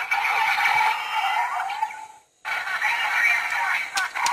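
A Kamen Rider Drive toy driver belt powers on with a steady electronic standby sound that plays loudly and cuts out briefly midway before resuming.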